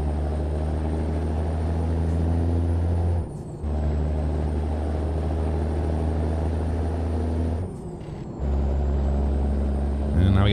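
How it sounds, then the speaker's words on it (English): A heavy truck in American Truck Simulator, a Ford Aeromax, brakes hard with two sharp air-brake hisses that cut through the loud, steady engine drone. "Slamming the brakes, as per usual."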